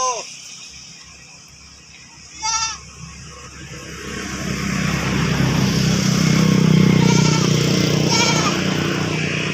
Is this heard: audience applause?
no